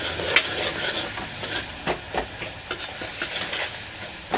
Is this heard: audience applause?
no